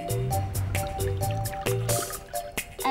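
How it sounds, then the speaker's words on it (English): Liquid poured from a tall thin glass into a short fat glass, heard as a quick series of close drips and splashy glugs against the glass, alone without talk. "one is poured into the short, fat glass"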